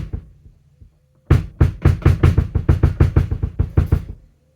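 A drum-kit bass drum is played with its foot pedal: a quick run of about a dozen deep, punchy thuds in steady succession after a few soft taps, close and fairly loud with no talking.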